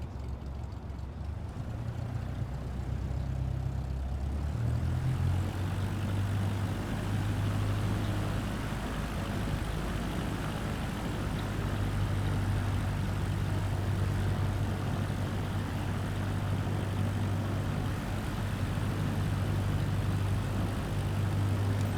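A Cessna propeller plane rolls down a runway in Microsoft Flight Simulator 2024, its engine droning steadily and building in power to a constant loud hum for the whole stretch.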